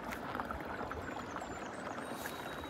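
Water rushing steadily beneath a rock crevasse near Cliff Lake in Temagami, a close, continuous wash of flowing water with no voices over it.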